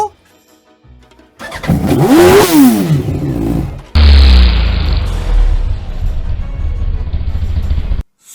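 A motorcycle engine in neutral revs up and falls back with a rising and sinking whine, then settles into a loud, rough, steady roar close by, while a voice talks briefly at the start.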